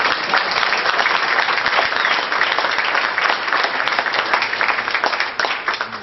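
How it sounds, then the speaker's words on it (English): A crowd at a political campaign speech in Davenport, Iowa, breaks into loud, sustained applause, dense clapping filling the room before tapering slightly at the end. "I'm hearing a lot of applause."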